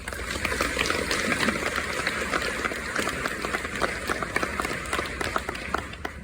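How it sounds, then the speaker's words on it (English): Dense, sustained applause fills a senior banquet hall, many hands clapping at once in a steady crackling wash that holds evenly from start to finish. "Give yourselves a round of applause."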